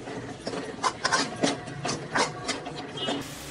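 Spices for a dahi bhindi gravy (chilli powder, coriander powder, turmeric, garam masala) are stirred in a pan, giving a series of soft scraping and rubbing strokes at a steady, unhurried rhythm, close and moderately quiet.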